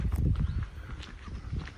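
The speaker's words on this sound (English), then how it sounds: "there's a lovely horse" Horse on a farm, a muffled low rumble of hoof movement and shuffling under outdoor wind noise, fairly close but indistinct.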